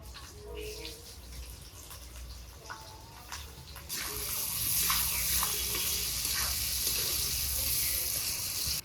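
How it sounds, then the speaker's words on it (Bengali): Chopped onions frying in mustard oil with bay leaves, dried chillies and cumin, a soft sizzle and stirring that swells into a louder, brighter hiss halfway through and stays steady. "পেঁয়াজগুলো লাল লাল করে ভেজে নিলাম"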